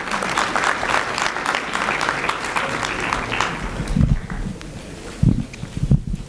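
Sustained audience applause at a junior high school annual awards day in Nairobi, steady and dense for about four seconds, then thinning into scattered claps and thumps as it dies away.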